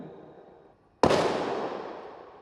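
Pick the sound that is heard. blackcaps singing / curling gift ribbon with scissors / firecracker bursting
firecracker bursting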